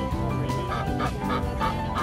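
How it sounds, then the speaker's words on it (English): A duck at a park petting zoo gives repeated calls, several short regular squawks spaced about a third of a second apart over a continuous busy outdoor background. "It's a duck, it doesn't bark."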